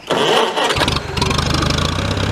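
An antique tractor engine cranks and catches, then settles into a steady, chugging idle close by, outdoors in snow.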